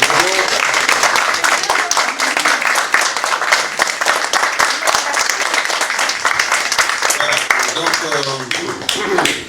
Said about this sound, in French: vous pouvez les applaudir parce qu'ils sont très bons